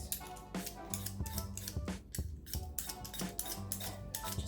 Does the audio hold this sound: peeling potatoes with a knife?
yes